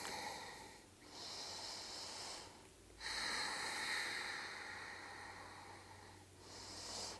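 Slow deep breaths during a yoga stretch, several long airy inhales and exhales in a calm rhythm, close and quiet with no talk.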